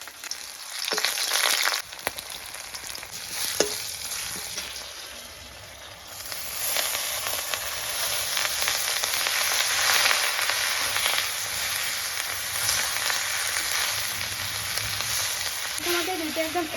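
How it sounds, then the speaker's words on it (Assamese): Greens (morisha saak) sizzle and fry steadily in a pan, a dense close hiss with brief clatter near the start, holding at a constant level throughout with no talk. "এইবাৰ ভাজিম মৰিচা শাক"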